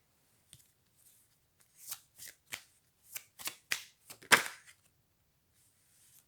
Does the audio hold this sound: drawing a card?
yes